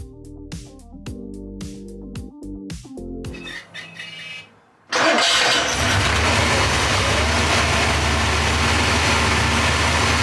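Music with clicks and shuffling leads to a brief cranking, then a Porsche 928 engine with a misfire catches and settles into a loud, steady idle close by.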